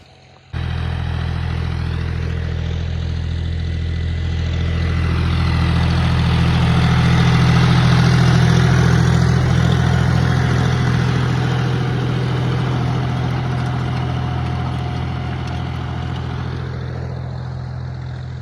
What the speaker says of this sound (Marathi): आता तुम्हाला ट्रॅक्टर चाललाय आहे आपला पुढं